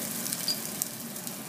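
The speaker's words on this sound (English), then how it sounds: "I'm going to put the onion" Onion frying in oil in a pan, a faint, even, hissing sizzle with small crackles, brief and with no voices.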